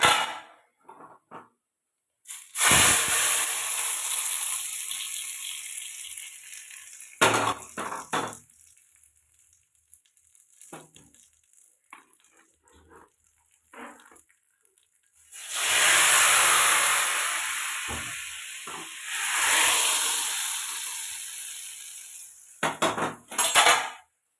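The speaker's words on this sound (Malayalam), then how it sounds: "പറ്റൻമുളക് ഇട്ട് കൊടുക്കണം നമുക്ക് സാമ്പാറിലേക്ക്" Dried red chillies go into Kerala wedding-style sambar, bringing loud bursts of hissing and spattering steam alongside clinks of a metal spoon and pot, with quieter gaps between.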